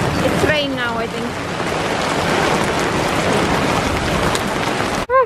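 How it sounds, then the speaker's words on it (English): Rain pours down steadily on a campsite after heavy rain and thunder, a loud, dense hiss throughout, with a brief voice-like sound near the start and a sharp thump at the end. "It's rain now, I think."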